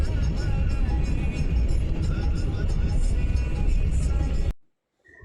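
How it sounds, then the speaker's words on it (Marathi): A car driving fast on the Samruddhi expressway, with a loud, steady low road and engine rumble from inside the car and faint voices, cutting abruptly to near silence near the end. "तर समृद्धी महामार्गावरनं गाडी एकदम फास्ट चालते"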